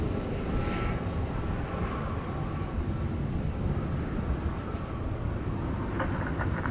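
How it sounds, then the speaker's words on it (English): A plane at DFW Airport at night produces a steady, loud engine roar that fills the whole stretch without a break. "That particular plane didn't need a lot of runway at all."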